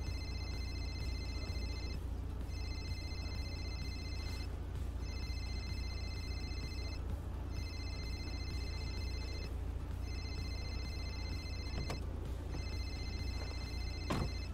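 An outgoing phone call rings back through a phone line, a repeating electronic tone in regular two-second pulses with short gaps, steady and unanswered over a faint background hum.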